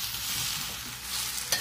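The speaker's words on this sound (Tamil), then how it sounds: "சேர்த்துட்டு நல்லா பிரட்டி விட்டுருங்க எண்ணெயில." Small cut soya chunks (meal maker) are tossed and stirred in hot frying oil, a bright steady sizzle with light stirring and a sharp click near the end, no voices.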